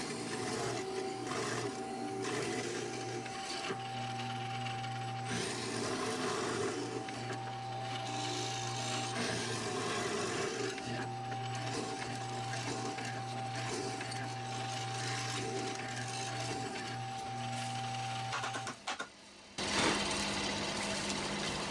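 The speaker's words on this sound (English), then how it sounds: "the mortising drill press, it drills a square hole" A mortising drill press cuts a square hole in wood, a steady loud motor drone with grinding chatter as the chisel bites, running for nearly the whole stretch before stopping abruptly.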